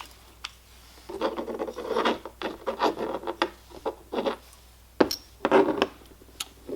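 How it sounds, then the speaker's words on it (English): Metal scraping and rubbing as the barrel bushing of a 1911 pistol is twisted during disassembly, a string of short gritty bursts and clicks, close and fairly quiet, with no talking. "we'll swing the barrel bushing, and that'll complete the disassembly of this gun"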